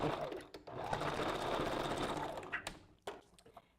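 A sewing machine back stitching while making a wig, with a close steady whirring run of rapid needle strokes that slows and breaks into a few short bursts and clicks at the end.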